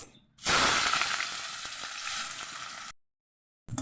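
Onions hitting hot oil in a pan just used to fry fish, a loud close sizzle that bursts in and holds steady for a few seconds before cutting off abruptly, with no talking.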